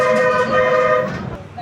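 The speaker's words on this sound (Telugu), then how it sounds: "డ్రైవర్ గారు హార్న్ గట్టిగా కొడుతున్నారు." An APSRTC Pallevelugu bus horn blares on the Palakonda to Srikakulam road as one loud, sustained tonal honk that stays close and continuous throughout.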